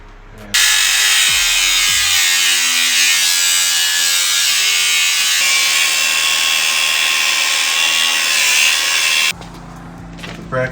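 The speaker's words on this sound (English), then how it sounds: "What we gotta do is grind off all these and put the new bracket on." Grinder cutting off old spring suspension brackets at the front mounts of a truck frame, a loud, sustained high-pitched metallic whine that starts abruptly, runs for about nine seconds with slight pitch shifts, then cuts off.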